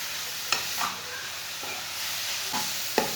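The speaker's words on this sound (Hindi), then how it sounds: "5 मिनट तक ऐसे ही चम्मच चलाते हुए भून लेंगे।" Grated carrots for gajrela roasting in a pan, stirred with a spoon: a constant hissing sizzle with occasional scraping clinks of the spoon against the pan, close and steady with no voices.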